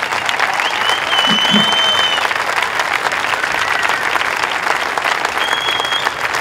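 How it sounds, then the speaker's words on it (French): Dense, sustained applause from a large crowd fills a political campaign rally held outdoors at Place de la République, steady and loud throughout with a few whistles rising above it. "Je crois qu'on peut s'applaudir mutuellement pour tout ce qu'on a fait depuis 5 mois."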